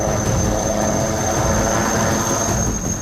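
An HAL Light Combat Helicopter flies with a continuous loud, dense engine and rotor roar that holds steady throughout, with no talk over it.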